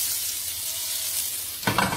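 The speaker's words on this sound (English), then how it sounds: "I'm adding butter. Alright, add some butter" Butter is sizzling steadily in a pan, a close, bright hiss that swells into a louder crackling burst near the end.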